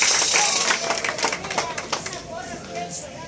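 Crowd clapping at an outdoor campaign rally as a síndica candidate is introduced, uneven broadband claps mixed with voices and cheering.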